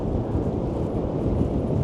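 Strong storm wind buffets the microphone at high tide on a Blackpool seafront, with gusts near 55 mph; a dense, steady low roar with no pauses, close and loud, and no speech.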